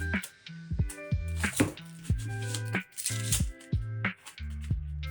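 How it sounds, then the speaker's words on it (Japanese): A kitchen knife slicing an onion in half and trimming it on a cutting board, with repeated close thuds of the blade against the board, mixed with faint rattling and overlaid by soft tonal music. "玉ねぎは半分にカットして皮を剥く。"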